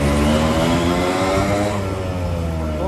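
A motorcycle engine revs loudly nearby, a buzzing, harmonic-rich drone that rises and falls in pitch as the throttle is worked, with no talk over it.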